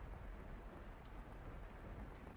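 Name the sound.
pouring rain in The House in Fata Morgana video game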